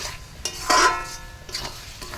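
Meat and spice paste are stirred and fried in a pan, with a spoon scraping loudly in one short burst, then softer scrapes and a faint sizzle.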